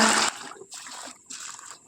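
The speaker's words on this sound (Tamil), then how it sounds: "உளுந்து சேர்த்து கொடுத்துட்டு எல்லாத்தையும் தண்ணி சேர்த்துக்கோங்க" Water poured onto rice and urad dal, a broadband splashing rush in the first moment followed by two shorter, softer pouring or trickling bursts into a vessel, close and alone.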